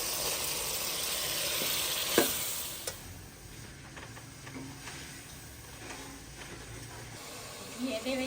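Green chillies sizzling and frying in a hot pan in a village kitchen, a steady crackling hiss with a sharp clatter near the start, then quieter frying.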